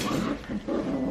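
A puppy plays with another dog, giving short playful growls and grumbling vocal bursts close by, with no talking.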